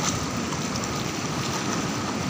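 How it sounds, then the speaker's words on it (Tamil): Flood water rushes heavily in a constant broadband roar, a loud, dense torrent heard close by with wind buffeting the microphone and no speech. "தண்ணி பயங்கரமா வந்துருக்குது."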